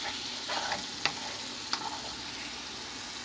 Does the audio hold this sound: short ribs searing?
yes